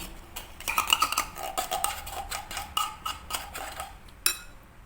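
A spoon clinks and scrapes against a bowl while corned beef is mixed with vegetables, a run of light irregular metallic taps and stirring scrapes, close and fairly quiet, with no talking.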